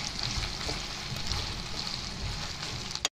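Fenugreek (methi) sizzles steadily as it fries in a pan, a continuous close crackle with no talking.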